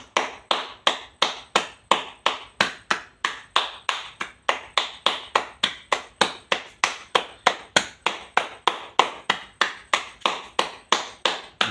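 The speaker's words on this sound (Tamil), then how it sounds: "கை கூப்பி கைத்தட்டு." Rhythmic hand clapping with palms pressed flat together, a long even series of sharp, close, evenly spaced claps at a steady brisk tempo, no other sounds.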